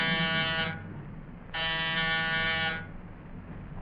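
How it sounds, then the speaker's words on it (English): An apartment door buzzer sounds twice in a harsh, steady electric drone, each press lasting about a second, heard over a low background hum in an old radio drama. "Push the buzzer"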